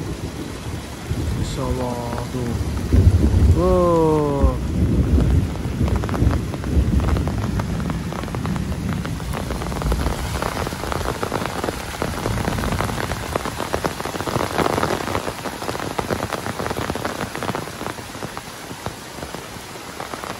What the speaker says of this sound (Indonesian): sekarang dikasih hujan ya, diguyur hujan yang memang lumayan cukup deras ini teh